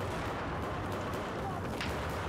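Mortar fire in the shooter game Battlefield 4 during a Team Deathmatch match on Operation Locker, a faint, dense rumble of distant artillery-like blasts that fills the whole short stretch without clear individual hits.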